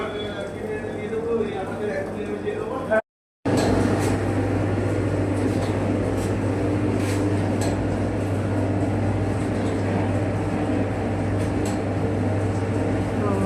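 A roti making machine runs with a steady mechanical hum and rattle, briefly cutting out once before resuming; people talk over it.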